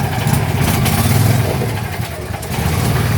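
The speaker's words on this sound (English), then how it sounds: "I'm gonna put the idle up for this." A 225 engine running steadily with its idle raised after a jump start, a loud, close, continuous rumble with slight fluctuations.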